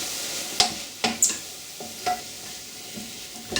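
Onions and leek being stirred in a saucepan: a gentle background sizzle broken by several distinct scraping and clinking strokes of the spoon, irregular and close, with no talking.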